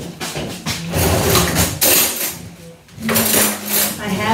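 A small spoon is fetched from a kitchen drawer, bringing close, busy clinks and clatters of cutlery and dishes in rapid, irregular bursts with a brief lull midway.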